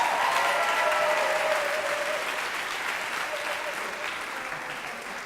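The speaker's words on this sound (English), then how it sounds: "one more round of applause for Caroline Sullivan" Audience applause at a high school spring choral concert, a dense, steady wash of many hands clapping throughout, close and loud, slowly easing off toward the end.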